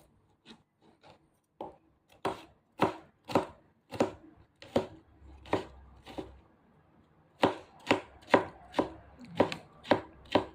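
A knife chops ingredients for lumpiang shanghai on a cutting board in uneven strokes, some single and some in quick runs of sharp, woody knocks; close and clear with no talking.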